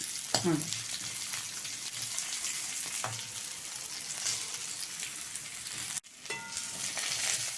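Small onions fry in hot oil in a pan for a beans kootu kuzhambu, a steady close sizzle with occasional stirring scrapes and a brief clank partway through.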